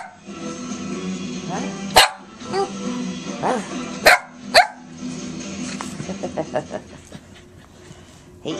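A dog barks a few sharp times close by, followed by quicker yips and panting, with a voice talking in between.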